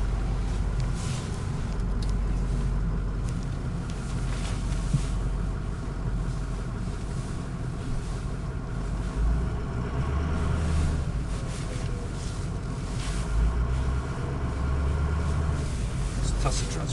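A 2007 Ford F350 King Ranch crew cab 4x4 diesel pickup drives along, its steady low engine rumble and road noise continuous throughout while someone talks over it.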